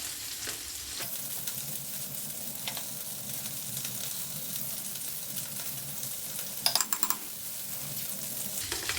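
A spoon steadily stirs American mustard and mayonnaise together for a dip, making soft, wet, continuous churning close by, with a few sharp clicks near the end and no talking.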